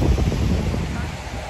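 Sea waves wash onto a rocky beach strewn with rubbish and leaves, a steady loud roar of surf mixed with wind buffeting the microphone, continuous throughout.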